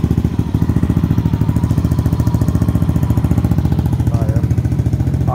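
Yamaha Aerox scooter with stock engine and a TRC Power Pipe aftermarket exhaust, running close by with a loud, deep, steady throbbing drone and a slight rev near the end.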